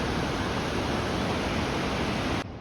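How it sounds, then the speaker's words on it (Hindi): Waterfalls swollen after a flood in Manali roar in a loud, steady, unbroken wash of rushing water that cuts off abruptly near the end. "गाइस ये देखिए झरने ना इतने ख़तरनाक आ रहे हैं"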